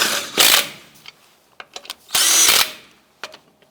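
An impact tool snugging the wheel lug nuts on a Chevy Colorado, two loud, short whirring bursts close by, separated by small clicks and handling noises.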